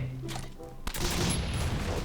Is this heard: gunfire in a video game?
yes